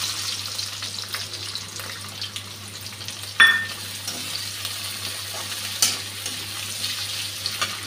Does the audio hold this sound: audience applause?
no